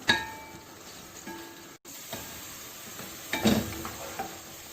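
Chopped medium onion browning in half a cup of hot oil in a pot, a soft steady sizzle with a few clinks and stirring scrapes of a utensil against the pot.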